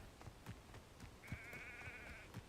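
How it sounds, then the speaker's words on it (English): A sheep in the video game Hogwarts Legacy lets out a single clear, wavering bleat of about a second, heard over soft background clicks and ambient game noise. "No, that sounds like a sheep."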